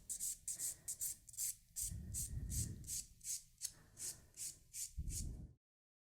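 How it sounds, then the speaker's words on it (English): A hand file rasps on an acrylic gel hybrid nail in quick, short strokes, with a few heavier scraping passes between them. It is quiet and close, with no talk, and it stops abruptly at the end. "I did my 5 steps in filing, and now I'm going to see if I need to perfect the nail a little bit."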